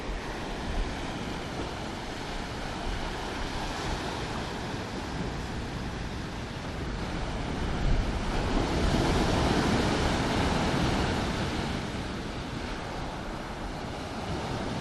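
Surf rolls onto a black sand beach at White Bay in New Zealand. Wind buffets the microphone as a continuous roar of waves swells and recedes, growing loudest midway, with no voices.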